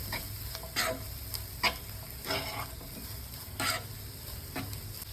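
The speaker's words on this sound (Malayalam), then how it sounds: "നന്നായി ഇളക്കി കൊടുക്കും" Chicken samosa filling for Kannur-style samosas sizzles quietly in a pan while a spoon scrapes through it, giving a handful of soft, spaced stirring strokes over a low constant fry.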